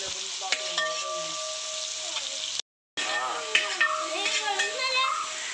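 Chopped onions sautéing in a pan for chicken curry on an outdoor stove, a steady close sizzle with scraping stirs. A brief dropout in the middle, and faint voices in the background.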